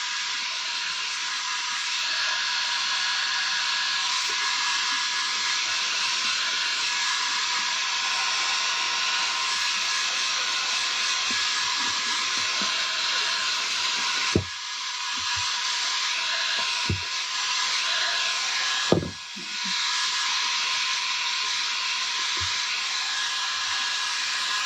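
A heat tool with its heat turned down blows cool air in a steady, loud hiss that runs nearly the whole time, broken by a few soft knocks and clicks.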